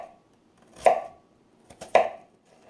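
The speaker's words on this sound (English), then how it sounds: "I'll show you a little trick on how I cut my onion" A knife chops through an onion on a cutting board, slicing vertical strips down to the base: two crisp, close cuts about a second apart, with quiet between them and no talking.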